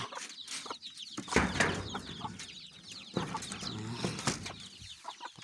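Chickens clucking in a bamboo coop setting while asking for food, several birds close by making overlapping, busy clucks and squawks with some rustling and wing movement.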